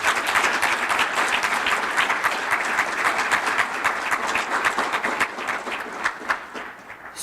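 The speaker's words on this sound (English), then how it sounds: "Let's give all of our student winners another well round of applause." An audience at a student award presentation gives sustained, even applause from many people, loud and continuous before tapering slightly at the end.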